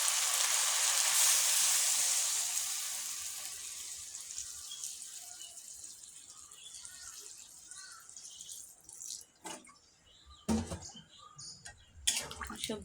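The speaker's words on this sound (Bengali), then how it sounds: "এখন আমি পরিমাণ মতো ঝোল দিয়ে দেব।" Broth hits sautéed vegetables in a hot pan with a sudden loud sizzle that fades over several seconds. Scattered clinks and scrapes of stirring follow near the end.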